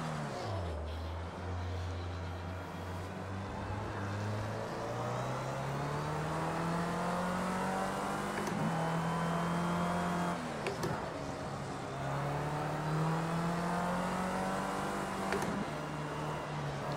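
Rival race cars close in during a Project CARS 2 career race, their engines a continuous droning whine that climbs and dips in pitch as they gain, steady and fairly loud throughout.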